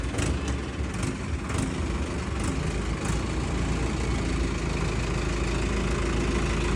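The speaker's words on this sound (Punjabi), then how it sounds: "ਫਸਟ ਟਾਈਮ ਟਰੈਕਟਰ ਚੱਲਣ ਲੱਗਾ" A tractor engine runs steadily at a loud, close idle, a constant low rumble and vibration with no break and no talk.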